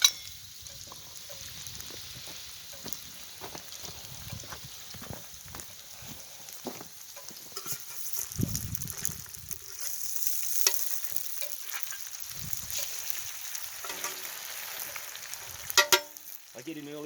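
Bacon frying in a cast iron pan over an open fire gives off a steady soft sizzle, with occasional scrapes and taps of a spatula stirring, close but fairly quiet.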